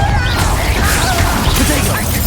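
A Bombarda explosion spell strikes during Hogwarts Legacy combat, a loud crashing blast within continuous dense battle noise, with voices shouting over it.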